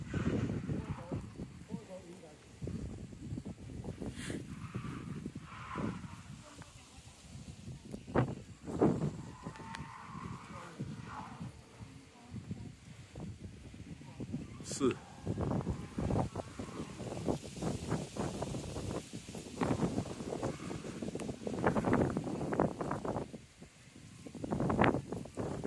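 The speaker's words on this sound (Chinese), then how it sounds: "起风了" Wind blowing outdoors at a wind farm, gusting in uneven rushes and buffeting the microphone, with people talking intermittently throughout.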